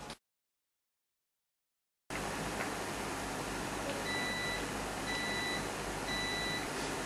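A kitchen timer set for three minutes while making curry pasta gives a few short, evenly spaced beeps over a steady background hiss after a moment of silence.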